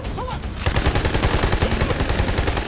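Sustained machine gun fire from the video game Army of Two: The Devil's Cartel, loud and continuous after a brief quiet start with a faint tone, dense overlapping bursts filling the whole stretch.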